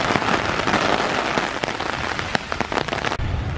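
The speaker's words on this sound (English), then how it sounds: "It's pouring down now." Heavy thunderstorm rain pours down steadily in a park, a dense close hiss of drops striking surfaces around, loud and unbroken with no voices.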